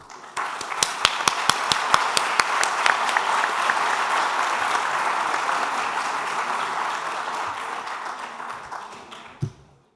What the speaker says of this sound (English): So Luis has been really doing a lot of work, so I think we owe him an applause already at this stage.